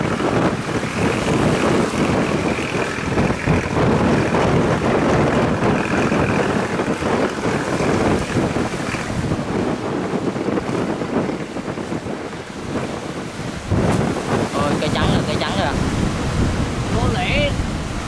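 Big sea waves crash against a tilting fishing boat at the harbor mouth entering LaGi port, a loud sustained wash of surf and heavy wind buffeting, with splashes surging and falling throughout.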